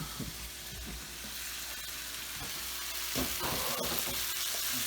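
Cod fillets frying in herb-infused olive oil with sun-dried tomatoes, a steady close sizzle and crackle in the pan with occasional soft scrapes and knocks, no talking.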